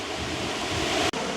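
A strong wind roars steadily across the microphone outdoors beside a village pond, a loud, continuous rushing with a brief dropout near the end.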